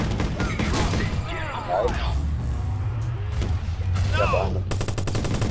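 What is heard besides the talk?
gunfire from the video game Watch Dogs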